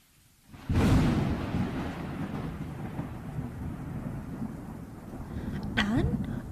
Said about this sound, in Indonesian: Tapi sebuah badai datang.